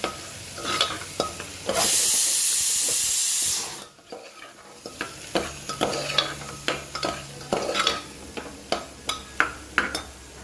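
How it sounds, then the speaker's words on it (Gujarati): Peas and potatoes are stirred into masala in a pan over a full gas flame. A loud, steady sizzle bursts up for about two seconds, then a series of sharp spoon scrapes and clinks against the pan keep a stirring rhythm over a softer frying hiss. "મસાલાને સરસ એક રસ થવા દઈએ"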